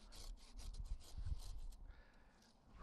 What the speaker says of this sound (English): I'm gonna cut that back to another lateral